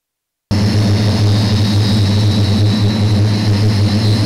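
A Surya Kiran aircraft's engine runs at an air show, a loud, steady, close roar with a high whine on top that starts abruptly and holds without a break.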